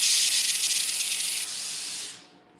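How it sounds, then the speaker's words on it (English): A LauraStar garment steamer releases a loud, close burst of rushing steam that hisses steadily, drops slightly in level partway through, then fades away. "check out the steam that I have from LauraStar"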